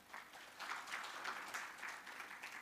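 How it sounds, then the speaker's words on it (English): An audience at a veterinary seminar gives steady applause that fills the room, with dense overlapping clapping heard alone and slightly distant throughout. "A big round of applause for the"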